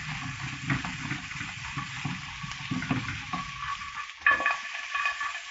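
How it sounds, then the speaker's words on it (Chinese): Pork ribs stir-fry in hot oil in a wok, giving a close, busy sizzle with repeated scraping stirs and a louder clatter near the end. "炒菜吧，就是油烟特别多"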